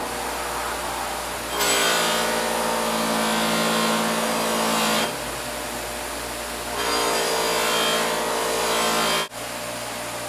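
An axe blade pressed against a spinning buffing wheel loaded with fine polishing compound: a steady motor whine, broken by two long, harsh rubbing passes of a few seconds each. The wheel hums alone between the passes.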